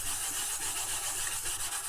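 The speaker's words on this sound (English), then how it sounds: "chrome polish on there, and we're just going to give it a rub it in there" Steady close rubbing of a cloth working chrome polish into crusty, century-old chrome, a continuous soft swishing friction with gentle back-and-forth pulses and no voices.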